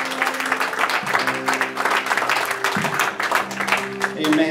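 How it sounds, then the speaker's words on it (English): Church congregation clapping in praise during a Sunday service, a steady wash of applause lasting throughout, with sustained organ or keyboard tones underneath and some voices mixed in. "Let's give the Lord a great big hand clap of praise."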